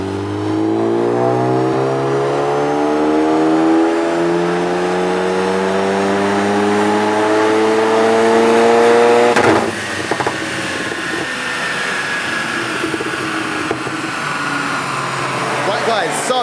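A car fitted with a hybrid turbo at a stage 3 tune revs loudly and steadily, engine pitch climbing in long rising sweeps, then a sharp change partway through and a second rising run, with talk faintly underneath.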